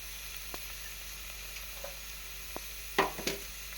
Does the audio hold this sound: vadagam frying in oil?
yes